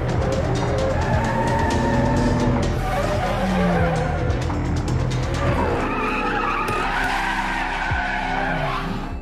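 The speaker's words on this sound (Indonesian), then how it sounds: "kemunculannya dua mobil racing yang ternyata mereka sedang melakukan balapan" Two racing cars tear down a street in a race, tires squealing and skidding continuously over loud, roaring engines that surge and shift throughout.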